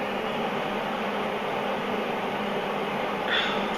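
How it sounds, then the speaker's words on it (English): MIG welding with a Miller Auto Set 180 set near 2.5 heat and under 40 wire speed, a continuous loud, even buzzing hiss held steadily throughout, up close and with no talk. "And that is creating a weld."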